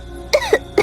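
A child coughs three times at a steady pace, each cough short and harsh, heard close by against a quiet background.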